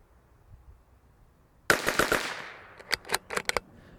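Bergara BMR X .22LR rifle fired at steel targets outdoors, a burst of three quick cracks followed after a pause by a ragged run of about six more shots, fairly close, each with a short ringing tail, with no talking.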